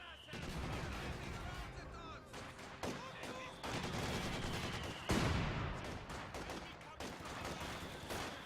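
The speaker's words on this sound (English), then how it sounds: "Sniper will line up a shot and wipe out the MG42 team" Gunfire from Company of Heroes 2, a sniper shot and MG42 machine gun bursts amid dense battle noise, sharp cracks repeating over a constant roar of combat.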